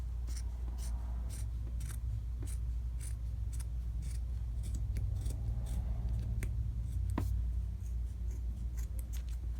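Scissors snip through the sleeve of a cotton tee shirt in quick, crisp, repeated cuts, close and steady over a low background hum, with no voice.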